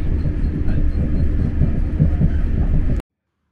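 Irish Rail Intercity diesel train gathering speed, a loud, steady low rumble and rattle of the shaking carriages heard from inside, cutting off abruptly near the end.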